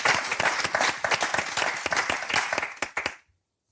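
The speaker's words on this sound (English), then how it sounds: "Big applause for this company." Audience applause for an award-winning company at a chemical leasing award ceremony, a dense steady clapping from a crowd that runs loud and then cuts off abruptly into silence.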